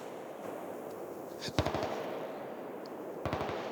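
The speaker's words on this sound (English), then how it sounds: "Someone else is shooting." Several sharp gunshots from another shooter at an outdoor shooting range ring out in two brief bursts, one near the middle and one near the end, with echo trailing each group and steady background noise between.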